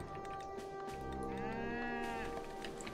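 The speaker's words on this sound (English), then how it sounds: "There's another cow in there somewhere." A cow in the open-source strategy game Glest lets out a long, wavering moo that swells in the middle of the moment, clear and fairly close over a faint steady game soundtrack, with no talking.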